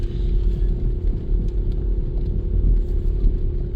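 A 1997 Dodge Grand Caravan SE engine, left sitting on a farm for years and running on old gas, idles with a steady low rumble close by, with no voices.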